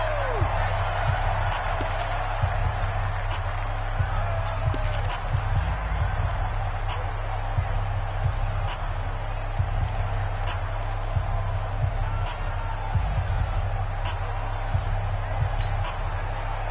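Stadium crowd roar inside the Dome during a PS4 football video game, a steady loud wash of crowd noise with scattered thumps and hits running throughout under a commentator's voice.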